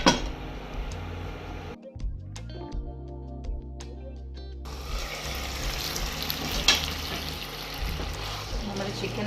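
Chicken cooking in a pan with salt and a little water, a loud bubbling sizzle that drops away briefly for a stretch of clicks and clatter, then returns full and close.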